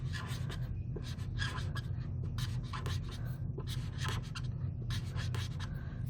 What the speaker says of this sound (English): let me just draw this here.